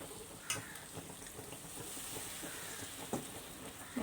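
Rohu fish fries in hot oil in a pan, a soft continuous sizzle broken by occasional scraping and clinking from stirring.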